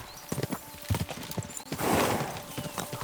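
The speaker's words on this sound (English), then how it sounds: "We should spur the horses on." Horses' hooves clip-clop at a steady trot in the medieval video game Kingdom Come: Deliverance 2, fairly close and distinct, with a short whinny-like swell partway through.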